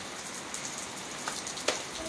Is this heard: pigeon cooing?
no